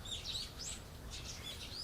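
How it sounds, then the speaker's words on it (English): Morning birds chirping in the visual novel Higurashi, several soft high tweets over a steady low ambient hum, fairly faint and continuous. "When I woke up to the morning sunlight and birds chirping"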